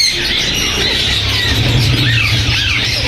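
Ringneck parakeets squawk loudly and continuously at a Sunday bird market in Bahawalpur, a dense overlapping chorus of harsh shrieks and chatter close by with no pauses.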